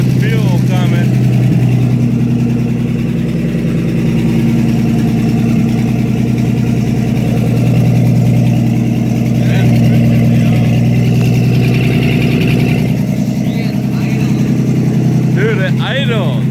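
1962 Ford F100 that had sat for years, idling steadily just after its first start, a loud continuous low rumble close by with excited voices talking over it.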